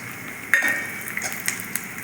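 Dry fruits sautéed in a spoonful of melted ghee over medium heat for kheer, giving a soft, steady low sizzle with a few light clinks of a spoon against the pan.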